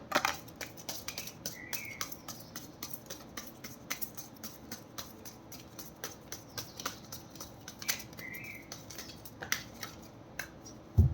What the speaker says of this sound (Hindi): This is my last shuffle.